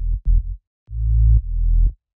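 A deep synth bass with a second oscillator added plays a short pattern of quick plucked notes followed by two longer held tones, clean and isolated with nothing else around it.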